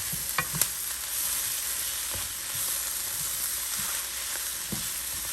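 Vegetarian pad thai frying in a pan, a dense continuous sizzle with a few soft stirring knocks and scrapes, no voices.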